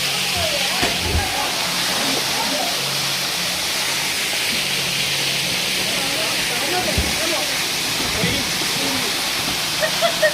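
Natrampalli Alasandhrapuram falls, a hidden forest waterfall, roars with a steady, loud, even rush of falling water, while voices speak faintly now and then beneath it.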